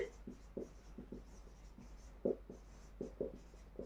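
Chalk or marker strokes on a classroom board, a quick series of short scratchy taps and scrapes close by with brief pauses between letters, no talking.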